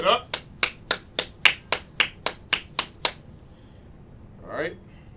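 An audience snaps fingers in place of clapping at an ISUPK Kansas City law class, about eleven crisp, evenly spaced snaps over three seconds, followed by a brief voice.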